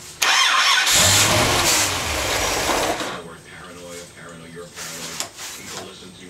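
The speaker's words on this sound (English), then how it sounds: "These motors really don't need a lot of choke to make them work, so it should start to smooth out once it gets some heat in it." A 540 cubic inch big-block Chevy engine with the choke closed cranks and catches, then runs rough and loud at close range. It settles into an uneven, lumpy idle while someone talks over it.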